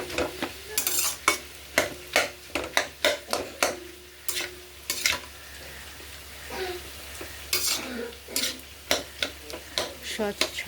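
Plain chow mein without sauce is stir-fried in a pan, a spatula scraping and clacking in quick repeated strokes over a soft continuous sizzle.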